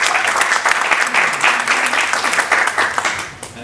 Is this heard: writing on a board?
no